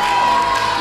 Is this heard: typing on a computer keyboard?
no